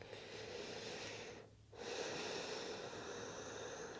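A long, deep breath drawn and released during gentle yoga stretching on a mat, with a steady airy rush that briefly pauses before the next breath.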